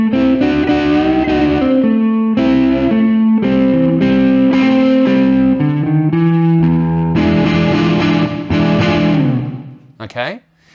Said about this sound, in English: get the amp at the edge of breakup and then chuck the tube screamer on top of that